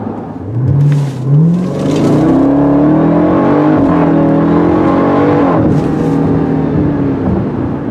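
A Jeep Grand Cherokee Trackhawk engine revs and surges hard as it launches from 0 to 60, the pitch climbing through gear changes, loud and close from inside the cabin.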